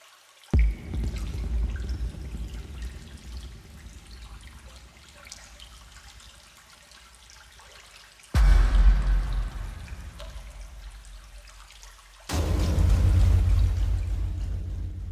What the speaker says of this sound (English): I'll play the water sample while I'm gone.